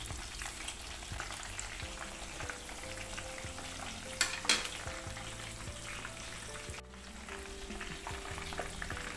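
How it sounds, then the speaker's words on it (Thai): Pork belly fries in oil over medium-low heat with a steady, soft bubbling sizzle throughout and a couple of brief louder crackles midway. "ถ้าไฟแรงเกินไปจะทำให้หมูไหม้นะครับ ก็ใช้ไฟประมาณกลางๆเกือบอ่อนนะครับ ก็คอยดูแล้วคอยกลับด้วยนะครับ"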